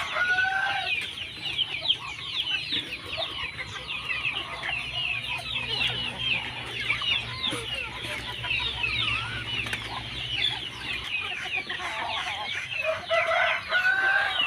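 Chickens cluck steadily on a farm where chickens and Muscovy ducks are raised, with a rooster crowing now and then through a dense, continuous chorus of nearby fowl.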